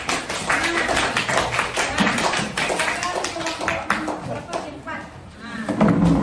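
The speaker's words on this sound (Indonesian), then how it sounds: "Kasih tepuk tangan yang semangat." An audience claps their hands enthusiastically, giving a dense, uneven stream of sharp claps that runs for about six seconds, with voices talking over it.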